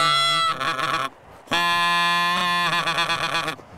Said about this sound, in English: Oh, geese already flying in.